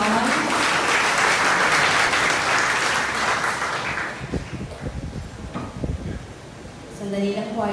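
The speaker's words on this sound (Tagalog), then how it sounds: "Isa nga pong malakas na palakpak sa Panginoon" Loud congregational applause at a church service, dense clapping for the first few seconds that thins into scattered claps and shuffling, with a voice speaking at the end.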